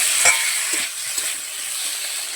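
Dal bori frying in hot oil for a potato curry, a soft steady sizzle with a few light stirring scrapes, close by and alone.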